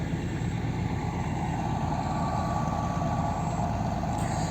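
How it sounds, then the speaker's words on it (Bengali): A sand-loaded cargo ship's engine drones steadily as it passes on the river, a low continuous rumble at moderate distance with no talk over it. "একটা বালি বোঝাই জাহাজ যাচ্ছে"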